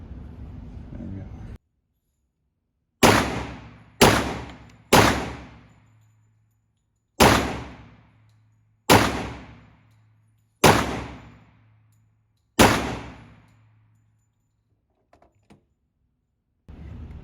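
Seven sharp 10mm pistol shots ring out at an outdoor shooting range, spaced one to two seconds apart with short decaying echoes, following a brief stretch of talk and low background noise.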